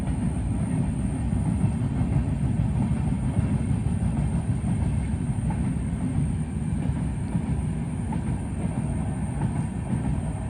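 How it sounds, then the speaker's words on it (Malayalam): A train passes close by behind a stretch of forest, a steady loud rumble with wheel clatter and faint squeal that holds evenly throughout with no voices. "ട്രെയിൻ പോകുന്നുണ്ടോ? സൈഡിൽ കൂടെ കാണാൻ പറ്റുന്നുണ്ടോ?"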